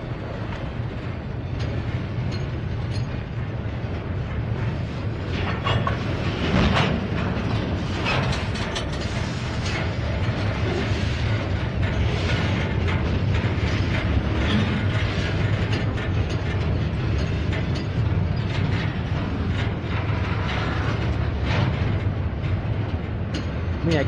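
A long freight train rolls steadily past at a rail yard, with a continuous loud rumble of wheels and the clanking, ratcheting rattle of railcars going on without a break, close by and with no one speaking.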